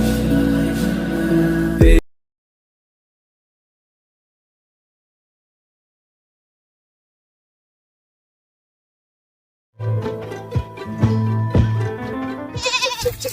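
Goat bleating at a village show, with loud, close calls at the start, then a long stretch of silence, and further bleats mixed with other noise near the end.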